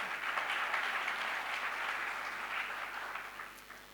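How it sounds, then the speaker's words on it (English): Steady applause from a forum audience at an off-grid solar conference opening session, dense and even, then gradually thinning toward the end. "Applause."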